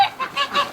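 A nesting goose honking in a quick run of four or five short, nasal calls, close and fairly loud, with no voices.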